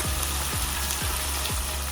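Loud, steady sizzling of chicken frying in hot oil, with a few soft regular thumps underneath and no talking.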